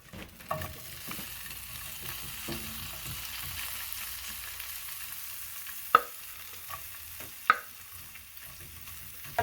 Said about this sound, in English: Now, into that oil, we put the broccoli.